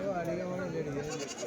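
Goats bleat repeatedly in a wavering, nasal chorus, loud and close, at a weekly sheep and goat market in Kadiri, with people talking over them throughout.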